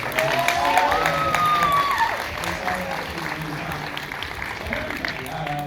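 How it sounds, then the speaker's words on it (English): A Q&A audience applauds after cast members and a writer-producer-director are introduced, steady dense clapping with some cheering from a crowd filling the room, loud at first and easing slightly as it continues. "Can we get a round of applause?"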